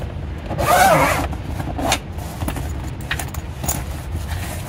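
A zipper on a Tesla Model 3 seat cover is pulled in one short, scratchy rasp, followed by faint rustling and handling noises at close range.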